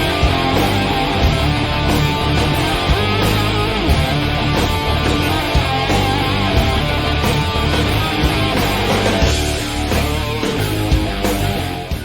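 Music from Red Alert 3 used in a mobile Command & Conquer: Red Alert (2009 iOS / J2ME) plays loud and continuous as a dense, layered track with booming low percussion and a steady pulse.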